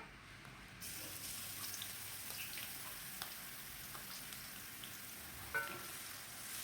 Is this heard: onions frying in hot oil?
yes